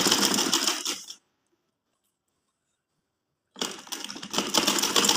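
A sewing machine stitches a kurti in two short rapid bursts, close and loud, separated by a couple of seconds of silence.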